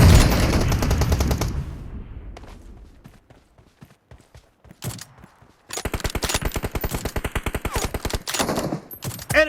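Sniper and pistol shots ring out in a PUBG Mobile team deathmatch, a loud opening burst fading into scattered single reports, then a rapid regular volley of sharp cracks near the end.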